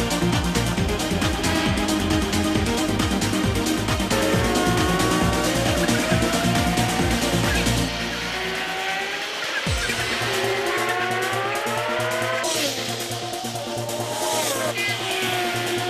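A Porsche race car spins on the Oulton Park circuit during a one-make championship race. Loud engines roar throughout with a shifting, wavering pitch, then a tyre squeal cuts in and the engine note drops abruptly.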